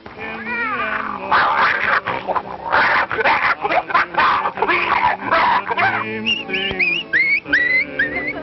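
A performer's voice imitates a cat and dog fight on a 1930s western ranch set: loud, wavering yowls and caterwauls tangled with barking-like yelps, continuous and frantic for several seconds before shifting to rising, whistle-like cries.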